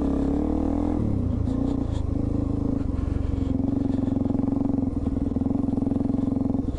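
A Suzuki DR-Z400E dual sport motorcycle engine idling and putting along in first gear, a steady throbbing drone with a slight rise in revs at the start.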